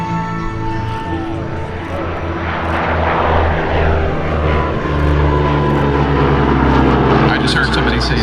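Propeller airplane flying past at the Columbus Airshow, a loud engine drone that swells and shifts in pitch as it passes, with crowd chatter and talk audible underneath.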